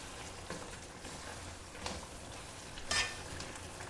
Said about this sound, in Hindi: पाँच से 6 मिनट तक मुसलसल हम इसको स्टर करते रहेंगे